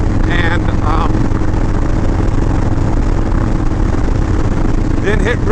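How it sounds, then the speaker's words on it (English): A 2018 Harley-Davidson Breakout 114 motorcycle rumbles along at riding speed, its loud, low engine note blending with heavy wind roar, while someone talks briefly over it near the start and end. "I'm riding my 2018 Harley Davidson Breakout 114"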